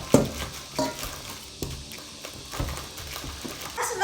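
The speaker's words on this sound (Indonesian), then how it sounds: "Kemudian kita akan menekan-nekannya sampai kentangnya benar-benar halus." Boiled potatoes being mashed by repeated pressing with a plastic-wrapped glass, giving a series of soft, close thumps and squelchy knocks at an uneven rhythm, with no voice.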